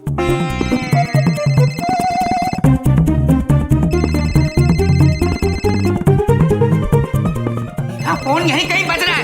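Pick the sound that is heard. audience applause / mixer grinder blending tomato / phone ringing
phone ringing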